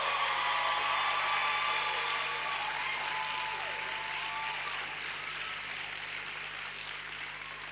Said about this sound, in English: let's give him a shout of applause